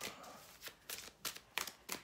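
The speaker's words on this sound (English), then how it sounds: "As you can see me shuffling." Oracle cards are shuffled by hand in a series of quick riffling bursts, close and crisp, with short pauses between each pass and no talking.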